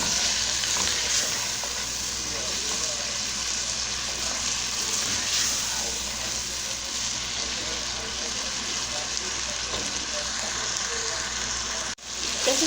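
Trinidad-style smoked herring sautéing in a pan as paprika and chili flakes are stirred in: a continuous, close sizzle with scraping stirs, and a voice speaks over it.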